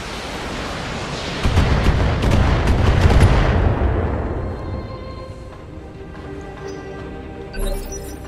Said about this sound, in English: So cross your fingers that you can dodge these. Here come 2 PPC shots.